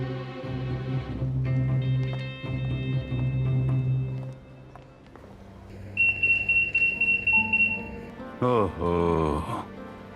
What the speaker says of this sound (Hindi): ओहो, लगता है अलार्म में कोई खराबी हो गई है।